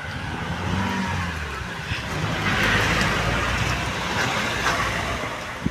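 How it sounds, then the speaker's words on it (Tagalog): Car climbing an uphill road, engine droning and swelling as it draws nearer, then easing off, heard from the roadside at moderate distance with no talk over it. "Ayan, may nag-aahon na sasakyan."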